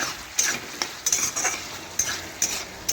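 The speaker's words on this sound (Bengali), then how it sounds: "এই দেখুন এইভাবে নাড়াচাড়া করে কষিয়ে শুকনো করে নিচ্ছি জলটা কড়ার মধ্যেই।" Papad curry is stirred in a kadai to cook off the water, with a spoon clinking and scraping against the pan in irregular strokes over a soft background sizzle.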